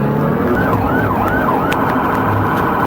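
A police car siren wails at close range during a motorcycle traffic stop, its rising and falling tone sweeping repeatedly over a loud, steady roadside rumble.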